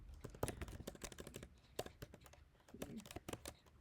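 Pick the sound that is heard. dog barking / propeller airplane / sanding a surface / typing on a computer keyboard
typing on a computer keyboard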